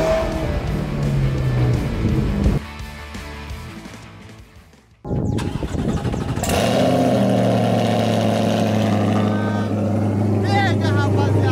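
A Chevrolet Corvette with a straight-pipe exhaust roars loudly and close, dropping off briefly before surging back into a deep, steady rumble with throttle swells.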